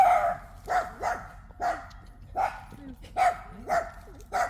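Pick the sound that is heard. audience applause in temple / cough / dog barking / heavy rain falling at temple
dog barking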